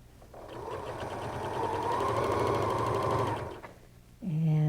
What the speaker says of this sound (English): lift the presser foot as long as your needle's down in the fabric, and just continue stitching